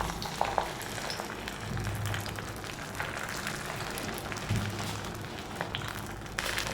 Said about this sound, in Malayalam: ഇനി ഇതേ എണ്ണയിലേക്ക് തന്നെ നമുക്ക് പാവയ്ക്ക ഇട്ട് കൊടുക്കാം.